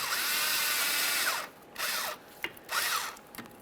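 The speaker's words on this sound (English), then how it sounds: "Use a 7mm to loosen the clamp." A power tool with a 7mm bit whirs in two or three short bursts, loosening the intercooler hose clamp on a 2013-2020 Ford Fusion 2.0L, with pauses and light clicks between runs.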